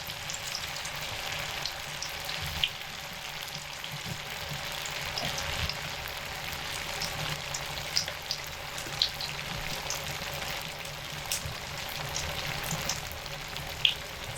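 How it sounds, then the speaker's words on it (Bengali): Soybean muitha dumplings, four at a time, fry in hot oil, giving a steady, moderately quiet hiss with scattered faint pops and crackles throughout, no talking. "মুইঠাগুলোকে দিয়ে দিচ্ছি তেলের মধ্যে।"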